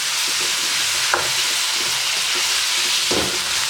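Ackee and saltfish fry in a pan as they are mixed: a constant hissing sizzle runs underneath, and two distinct scraping strokes stand out near the start and toward the end.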